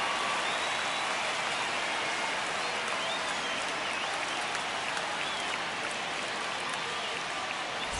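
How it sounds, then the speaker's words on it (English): A stadium crowd in the baseball video game MLB The Show 25 cheers and claps in a dense, continuous wash of applause and roar at a moderate, even level. "The crowd is amped up, ready to get this season underway"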